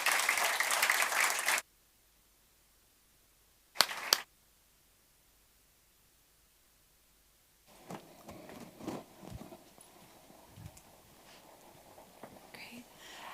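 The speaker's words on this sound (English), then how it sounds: "Give them a big round of applause." An audience at a CogX 2022 festival stage panel applauds in a short burst of clapping, followed by a second brief burst, then quiet and faint murmuring.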